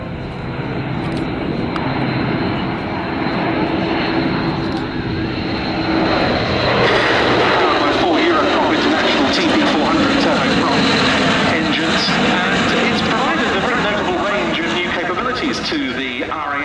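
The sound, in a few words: Airbus Atlas C1 military transport aircraft flying past at air show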